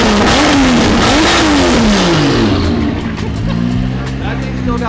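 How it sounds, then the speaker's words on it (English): A 1000-horsepower JZ-engined pro car roars loudly up close, its revs climbing and falling in repeated sweeps before settling into a rough, lumpy idle, with voices faintly underneath. "Just start it up and rev it"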